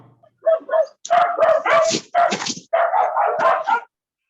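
A run of yappy, whining barks and yelps in quick irregular bursts, close and loud, ending in silence.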